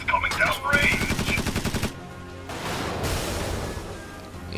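Tank gunfire in the strategy game Tiny Metal: Full Metal Rumble, a rapid loud burst of rounds followed by a crashing impact and rumbling aftermath.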